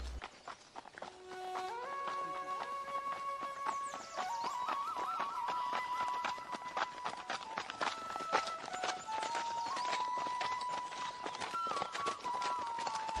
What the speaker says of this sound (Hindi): दोनों मित्र एक एक घोड़े पर सवार होकर मयूर राज्य की खोज में निकल पड़ते हैं।